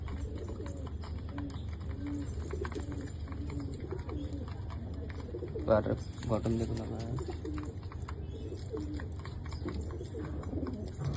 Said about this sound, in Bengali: এটা আমার ঘরের একটা কালেঙ্গা পায়রা।